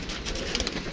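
Pigeons being let out of their coop coo and stir close by in a brief burst of soft bird sounds against light background noise.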